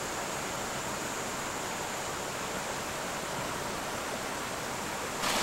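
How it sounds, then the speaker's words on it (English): A small creek in the Mossman Gorge rainforest rushes steadily, a dense, even hiss of flowing water close by that holds constant throughout with no voices. "what you hear is this little creek."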